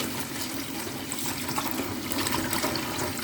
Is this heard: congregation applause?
no